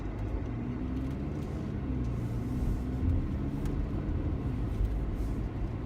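A 2015 Jeep Cherokee Latitude 4x4 with the 2.4-liter four-cylinder engine accelerates, giving a steady, moderately loud low engine rumble inside the cabin with no talking.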